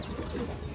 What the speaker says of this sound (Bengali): এই যে এই মোটা পায়রাটা হচ্ছে এরই হচ্ছে বাচ্চা আর কি